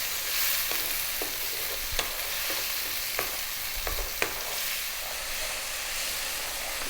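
Tomatoes, about two cups, stirred as they cook down in a pan for a liver, kidney and heart curry, with a steady sizzle and hiss under occasional scraping clicks of the spoon, close and continuous.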